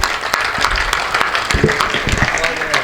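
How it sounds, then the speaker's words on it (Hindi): An audience at a Rotary club event claps together, a crowd's busy clapping heard close up with a voice speaking over it. "एक बार दोनों हाथ उठा करके अपने सम्मान में तालियां बजाएं"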